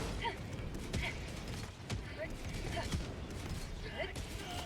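Sentry turret gunfire in the video game Helldivers, a quick run of sharp shots repeating at steady intervals over a dense, constant battle din.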